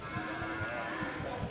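Aceh cattle, including a bull, low and moo in short bursts amid a busy, noisy livestock market background of animals and movement, fairly close.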